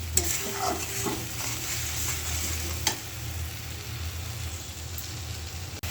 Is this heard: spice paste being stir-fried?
yes